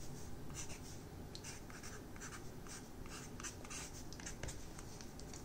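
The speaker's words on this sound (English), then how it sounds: "writing down what we know." Pen writing down notes for an electromagnetic waves homework problem, steady scratchy strokes in bursts, close and quiet, with no talking.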